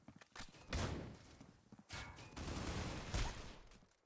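A flashbang grenade tossed in a competitive shooter match: a thud and clatter, then two sharp bursts about a second apart with ringing decay, followed by a third bang near the end, all fairly distant and without speech.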